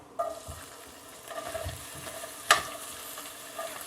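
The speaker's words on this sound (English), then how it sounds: "Get this sauteing a bit, make sure we have a pretty good heat going, which we do." White onion sautés in about three tablespoons of corn-flavored oil in a hot skillet, giving a quiet, faint sizzle broken by a few stirring scrapes and one sharp utensil clink.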